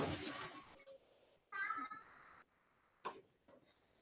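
A cat meows in a short played recording, several brief bright calls broken by quiet gaps, heard fairly close and moderately loud.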